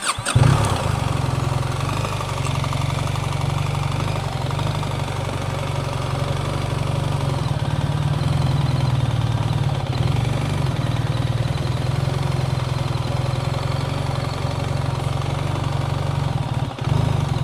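Motorcycle engine running steadily at low speed for slow figure-eight practice around two cones set about six meters apart, a constant near rumble with slight throttle swells and no talk.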